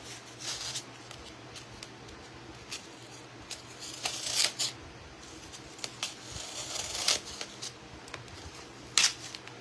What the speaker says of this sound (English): These are some sharp scissors.